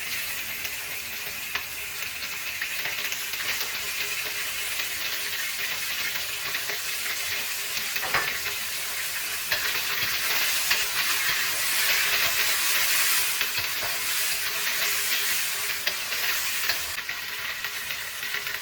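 Diced chicken sizzles and hisses steadily in a hot pan, already tossed with scallions and chicken skin, with occasional stirring scrapes throughout a continuous close frying sound.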